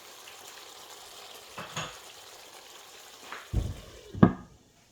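Chicken curry spice paste frying in a pan: a soft, continuous sizzle with occasional scraping stirs, ending in two louder clanks of a spoon against the pan.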